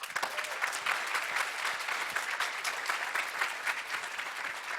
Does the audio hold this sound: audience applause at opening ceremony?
yes